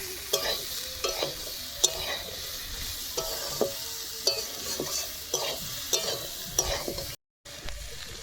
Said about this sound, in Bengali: এবারে মশলাটাকে একটু ভালোভাবে কষিয়ে নেব।